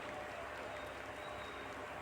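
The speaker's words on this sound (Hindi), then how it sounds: "Lot of applause indicates that till now the performance has been nominal." Applause fills the mission control room during the Chandrayaan-3 lunar landing's descent phase, a steady, dense clapping from a roomful of people that runs evenly throughout, with faint crowd noise mixed in.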